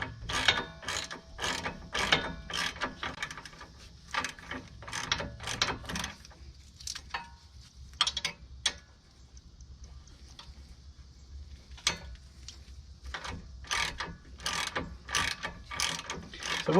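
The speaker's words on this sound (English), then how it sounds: "let's go ahead and use a socket." A socket ratchet wrench working on a strut bolt of a 2011 Chevy Traverse, with rapid bursts of close, crisp ratcheting clicks repeating in quick strokes, briefly pausing, then resuming.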